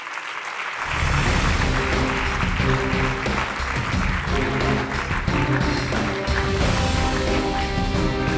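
Sustained applause from a conference audience at the closing session of a 2022 congress, dense clapping that starts abruptly and continues steadily and loudly for several seconds.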